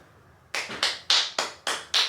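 A round of applause for Kelly: six sharp, evenly spaced claps from a single pair of hands after a short quiet moment, close and fairly loud with nobody speaking.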